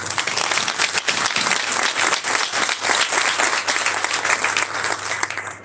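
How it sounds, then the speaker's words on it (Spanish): An audience at a legislative proposal presentation breaks into sustained applause, many hands clapping in a dense, steady wash that holds for several seconds before trailing off at the end. "Un fuerte aplauso para Karina Herrera."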